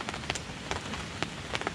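Heavy rain pours at a campsite during a solo hammock camping trip, a steady close hiss with sharper drops spattering irregularly on nearby surfaces, heard alone without voices.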